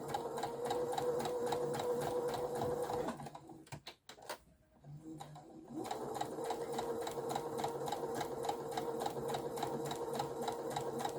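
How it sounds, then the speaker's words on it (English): A sewing machine with an invisible zip foot stitches in an invisible zip, running in a fast steady close whir. It stops briefly, then resumes its even rapid stitching, with no voices. "you put the invisible zip foot on, and you sew, and you're going to go forwards and back at the beginning to secure it"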